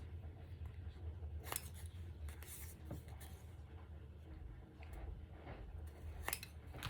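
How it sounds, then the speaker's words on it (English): Scissors snip the corners off a greeting card being made into a Halloween gift tag, giving a few sharp, close cuts spread over quiet room noise. "chop off the corners"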